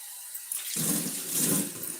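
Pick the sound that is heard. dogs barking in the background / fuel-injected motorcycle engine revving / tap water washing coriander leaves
tap water washing coriander leaves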